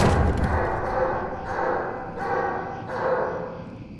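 A dog in the horror game Amnesia: Baxter's Memoirs barks in several muffled, echoing bursts, about four spaced across a few seconds and seemingly at some distance, over a dull rumbling background.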